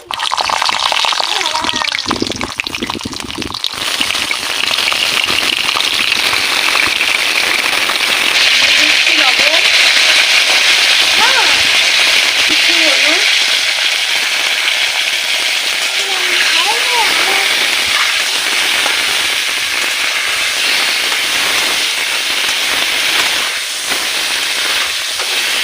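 Pointed gourds (potol) fry in hot white oil in a wok with a steady loud sizzle and crackling spatter, while someone talks over the frying throughout.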